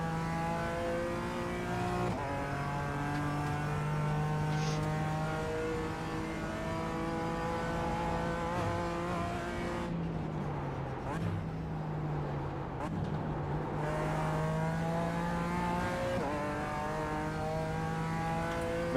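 Race car engine in the iRacing sim game, a loud, continuous, close-up harmonic drone that climbs through the revs and drops sharply at gear changes, with a brief lift near the middle.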